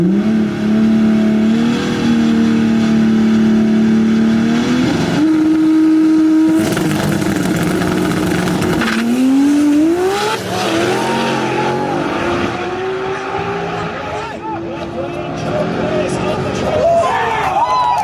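A loud 2000-horsepower manual Toyota Supra drag car on 80 psi boost revs and accelerates hard, pitch climbing through gear changes, with brief tire squeal and a crowd voice talking over it.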